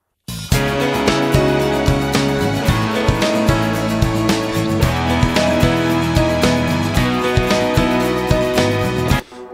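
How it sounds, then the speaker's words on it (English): A full band mix plays loudly and continuously, with steady drum hits, bass, and layered guitars driving a rhythmic song. "And I've got a rough mix of a song here."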